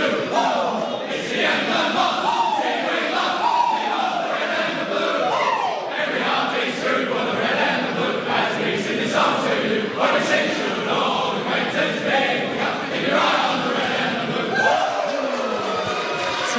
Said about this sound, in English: getting set to hear this song being sung by the Demons